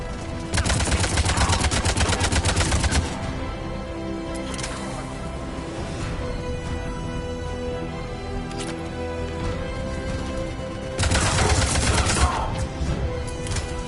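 Rapid automatic gunfire during a firefight at a checkpoint in Mass Effect 3, with dense loud bursts at the start and again near the end over a continuous game soundtrack.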